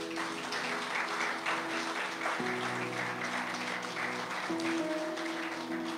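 A church congregation applauds steadily at a Catholic preaching service, a continuous wash of many hands clapping at moderate distance over sustained organ or keyboard tones.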